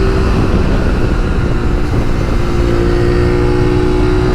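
A 2019 Suzuki V-Strom 650 touring motorcycle rides along, its engine droning loud and steady alongside heavy wind rush, with no one speaking.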